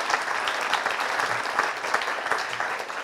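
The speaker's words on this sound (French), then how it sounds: "un peu plus d'applaudissements quand même." A crowd at an awards ceremony claps continuously, dense steady applause filling the room for a few seconds.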